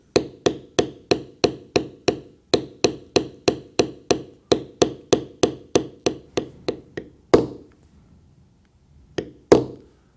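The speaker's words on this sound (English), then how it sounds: "now, with my large beveler, I will bevel inside my cut all the way around" A large leather beveler is struck by a mallet in a steady run of about twenty crisp, evenly spaced knocks. After a pause come two more solid hits, close and clear with no talk.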